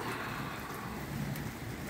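Heavy storm rain pours in a steady, dense hiss with a low rumble beneath, constant and close throughout.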